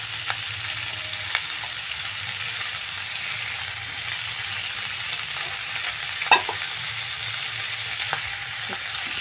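Boiled mushrooms frying in a hot pan, a continuous even sizzle with occasional scrapes and knocks of a spoon stirring, close and steady, no talking.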